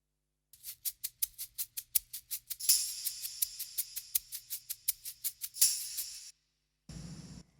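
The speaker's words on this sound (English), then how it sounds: "I'm also adding percussion, such as tambourine, shaker," Rhythmic tambourine jingles and shaker strokes play a steady pattern on their own, bright and crisp, ending with a short shaken burst.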